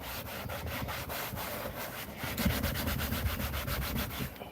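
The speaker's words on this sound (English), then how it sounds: "same thing, paint, thinners, rub it in" Paint and thinners rubbed into a leather seat during a repair, giving a steady, continuous scrubbing rasp with a regular back-and-forth rhythm, close and fairly loud, with no talking.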